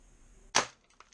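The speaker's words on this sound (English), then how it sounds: "now we're firing at this cardboard" Nerf Doomslayer blaster firing a single shot at cardboard, one sharp, close snap followed by a couple of faint light taps, with no voices.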